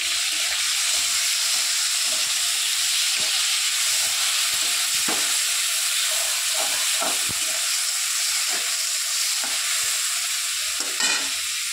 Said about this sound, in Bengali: এই যে ভাজা হচ্ছে, দেখে নাও, দেখেছো? ভাজা হচ্ছে